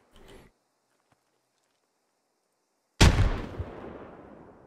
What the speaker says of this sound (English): Oh, we got grenaded.